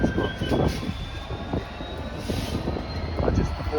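A Class 66 diesel locomotive, number 66503, rumbles past on the Great Western Main Line at Acton, a steady heavy drone with rhythmic wheel thumps, fairly close, under some talking.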